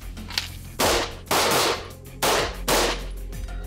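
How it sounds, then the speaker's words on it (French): Police officers fire handguns at shooting practice, with four loud, sharp reports in two closely spaced pairs, each cracking out and ringing briefly against a low steady background. "vous sortez votre arme et vous tirez 2 cartouches"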